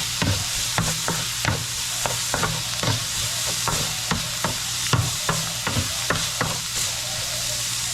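Garlic, onion and ginger sautéing in a pan for a kamias dish, with a steady broadband sizzle and repeated sharp scrapes and clinks of stirring spread across the whole clip, close and fairly loud, no talking.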